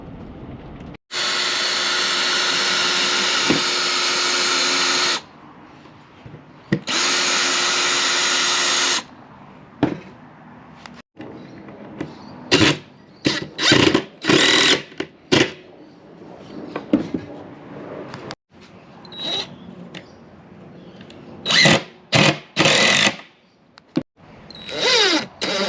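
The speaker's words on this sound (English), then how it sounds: "Right, so I've just drilled a hole in the roof." A power drill boring through the roof of a 2023 Toyota van, with long steady whirring runs followed by short stop-start bursts and clunks, loud and close, no talk.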